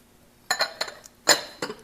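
Low-carb breading being mixed in a bowl: a few sharp clinks and scrapes of a utensil against the bowl in two short bursts, close and alone.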